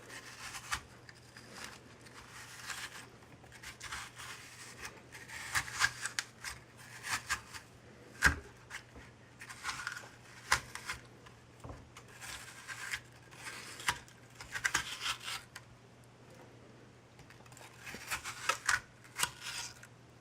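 A utensil scrapes the woody core and seeds out of an apple for baking, making soft, irregular scratching and rubbing close by, with brief clicks and pauses but no voice.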